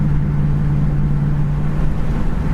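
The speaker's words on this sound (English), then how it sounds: "And the exhaust has got a nice sound too when you're going down the road." A 1969 Ford Mustang Mach 1 cruising down the road at about 62 mph and 2,400 rpm gives a steady, loud low exhaust drone with a constant deep hum and no speech.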